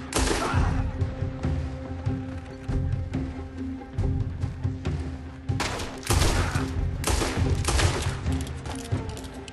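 Rapid pistol gunfire from a Red Dead Redemption 2 shootout, loud bursts of shots in clusters over in-game ambient music and effects, with no talk.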